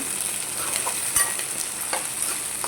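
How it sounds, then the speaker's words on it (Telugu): Onions frying in a pan, a soft, continuous sizzle with a few light stirring clicks, fairly quiet and with no talking. "ఉల్లిగడ్డ ఉల్లిగడ్డ వేంపేసుకుందాం"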